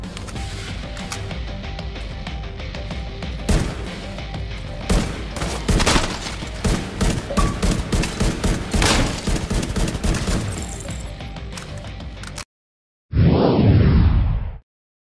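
Sig 716 rifle firing in The Division 2, a loud, dense run of repeated shots and bursts over about twelve seconds, then a short silence and a final heavy booming blast.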